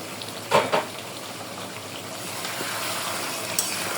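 Potato and sweet pumpkin sauté in oil in a pot, giving a steady, close, hissing sizzle that runs throughout. A couple of brief utensil knocks come near the start, and no one speaks.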